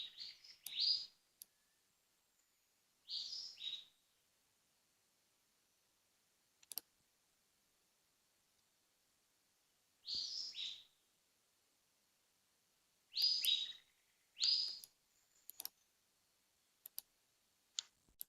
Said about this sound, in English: I like the sounds of oh, a mysterious bird in Borneo.